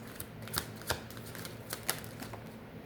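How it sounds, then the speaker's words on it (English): Tarot cards being shuffled by hand, a sequence of soft riffling snaps and flutters in quick irregular bursts, close and fairly quiet, with no voice over them. "I kept shuffling because everything's coming in reverse for the masculine."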